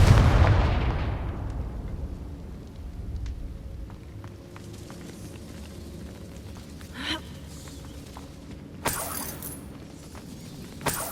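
A Confringo spell blast from the Hogwarts Legacy video game erupts loudly, then rumbles away into a fading tail, followed by smaller crackling bursts later on.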